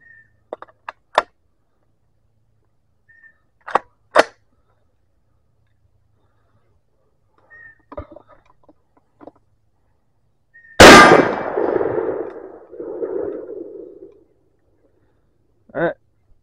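A 6.5 Grendel 123-grain Hornady Black rifle round fired at a Level 3+ Predator armor plate gives one loud sharp crack with a ringing, decaying tail, among a few faint metallic clicks and distant clanks.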